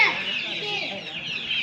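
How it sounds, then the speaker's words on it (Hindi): A white desi rooster in a village yard gives loud, close clucking and a strained crowing call, steady for over a second, with faint background voices. "ये मुर्गा वाइट वाला देसी मुर्गा"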